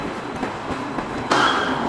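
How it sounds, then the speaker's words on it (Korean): Subway train pulling into a station on the Busan metro: a broad rumbling roar with rattling wheels that swells suddenly louder partway through, close and continuous, with no voices. "지금 수용 열차가 들어오고 있습니다."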